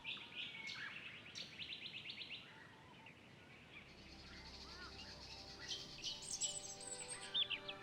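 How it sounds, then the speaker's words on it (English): Wild birds in Waterberg National Park, Namibia, call in overlapping chirps and trills that rise and fall, some as repeated quick notes and others as longer whistled phrases, moderately close over quiet background hiss. "There are hundreds of birds here."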